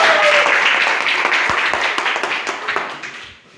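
Audience clapping in a church or teaching gathering, a dense patter of many hands starting loud and thinning out toward the end.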